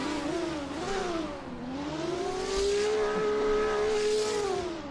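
A modded race car engine in the racing game Assetto Corsa, at the Nordschleife, revs and shifts repeatedly, its pitch climbing and dropping in waves with a loud, buzzy tone and faint tire noise, no talk.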